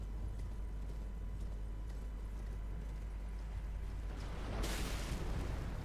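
Horse galloping in the Elden Ring video game, a steady low clip-clop rhythm running under an ongoing rumble, with a louder burst of noise near the end.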